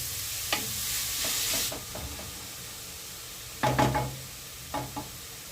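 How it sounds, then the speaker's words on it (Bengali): Grated radish tossed and stirred in a hot pan with spices, releasing its water, making a soft background sizzle broken by a few louder scraping stir strokes. "মিনিট খানেক মূলোটা ভালোভাবে নাড়াচাড়া করছি।"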